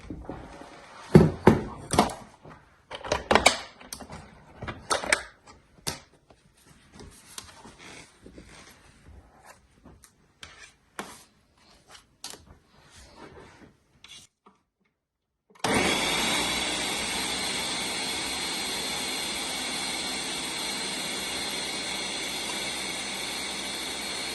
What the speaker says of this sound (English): So I'm using the coconut milk to grind the pineapple.